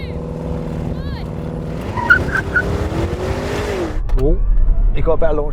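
An Audi RSQ8 Performance accelerates hard in a race against a Tesla Cyberbeast, its engine note climbing steadily through the gears and then dropping away. Brief tire noise follows, with people talking over the engine.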